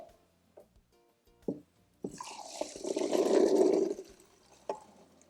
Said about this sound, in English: I'm going to go ahead and drain them and rinse them.